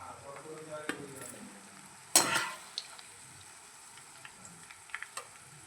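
A sharp burst of sizzling as ivy gourd pickle ingredients hit hot oil in a pan, loud for a moment then fading into quieter frying and faint utensil clinks.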